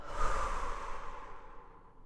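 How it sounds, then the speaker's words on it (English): A single deep breath drawn through the nose and released through the mouth, soft and close, fading away smoothly with nothing else around it. "a few deep breaths in through the nose,"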